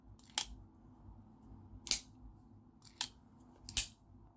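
A Real Steel Sacra folding knife snaps open with four sharp, crisp clicks spaced about a second apart, close and distinct over a faint background hum.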